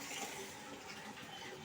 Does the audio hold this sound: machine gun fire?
no